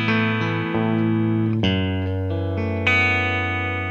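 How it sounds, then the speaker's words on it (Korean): A Squier Classic Vibe 60s Telecaster Thinline with an Aztec Gold finish is played through its bridge pickup, giving bright, clear electric guitar notes and chords that ring and shift every half second or so, close and without talk. "그다음에 예, 브릿지 픽업 사운드."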